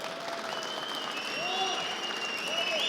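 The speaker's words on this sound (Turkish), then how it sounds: "Ben bir büyük alkış daha alayım Hakan abiye." A crowd applauds at a tractor auction for an Erkunt tractor at the Konya fair. The clapping is dense and sustained, with voices and whistle-like tones rising over it throughout.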